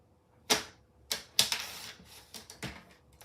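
Cardstock being cut on a paper trimmer track, heard as a series of sharp, close clicks and slicing snaps, about six distinct strokes at irregular intervals against a quiet background.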